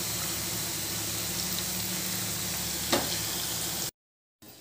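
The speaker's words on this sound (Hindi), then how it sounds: "अब हम इसमें आलू के लच्छे डाल देंगे। और इसे हम क्रंची होने तक फ्राई कर लेंगे।" Thin strings of potato fry in hot oil for a savory snack, giving a steady, moderate sizzle with one brief crackle near the end before the sound cuts out.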